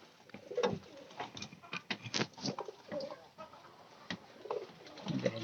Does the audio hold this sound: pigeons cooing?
yes